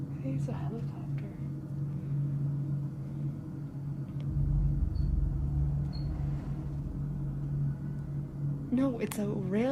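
Low, steady rumble of a distant train on a railroad near an abandoned railroad hospital, swelling slightly midway under a constant hum, with faint voices and a chirpy sound at the end.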